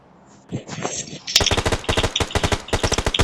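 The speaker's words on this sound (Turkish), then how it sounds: "Kim silah sıkıyor?" Video game gunfire: after some muffled clatter, rapid bursts of automatic weapon fire crack out loud and close in a fast repeating rhythm, with brief voice sounds near the start.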